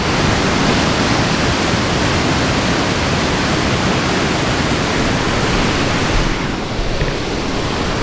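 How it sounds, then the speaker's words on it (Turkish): Water pouring down from a roadside waterfall in Rize, Turkey, a loud, dense, continuous rushing roar right up close, with no voices over it. "yol üstünde böyle muhtemelen şelaleden gelen su ama inanılmaz akıyor"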